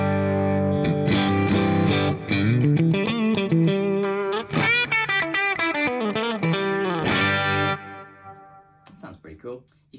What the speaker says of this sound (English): Next we got the Wampler Ego Compressor.